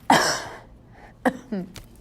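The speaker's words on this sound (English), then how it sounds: "I'll be so happy when this cough leaves." A single harsh cough up close, followed by a couple of short throat-clearing bursts in an otherwise quiet room.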